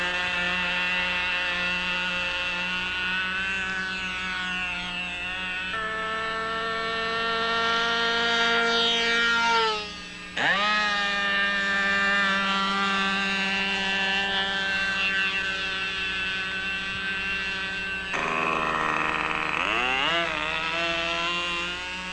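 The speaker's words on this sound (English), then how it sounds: "Roll down the runway and add full power. And start adding an elevator until she lifts off." A radio-controlled F-15 model jet rolls down a runway at full power and lifts off, giving a loud, continuous whine that rises in pitch, dips briefly midway, then surges again.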